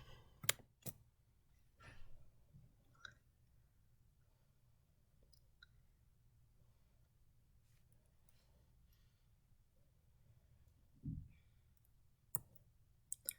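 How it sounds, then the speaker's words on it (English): Arrow keys pressed on a Windows PC keyboard, a handful of sharp isolated clicks spaced irregularly over quiet background, with a slightly heavier tap near the end and no talking. "So with the arrow keys I'm clicking, if I click the down key, it'll read to me each of these"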